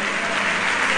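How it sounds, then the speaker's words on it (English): A church congregation claps loudly and densely in praise during a service, a close, continuous wash of applause with no voices over it. "Clap for the Almighty God."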